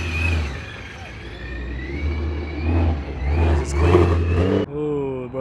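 A supercharged BMW at a Mini and BMW car meet revs loudly at close range, with a steady engine drone and rising whine. Other engine noise at the meet runs underneath, and a sharp change in tone comes near the end.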